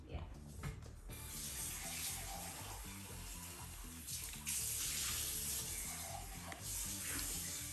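A kitchen tap runs steadily to rinse out a glass, giving a continuous hiss of flowing water that lasts the whole stretch over low background sounds.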